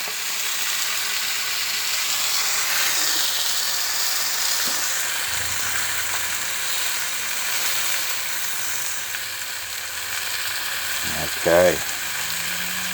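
Steak with a fat cap fries in a very hot pan on high heat, a constant loud hiss that runs throughout, with a brief spoken word near the end.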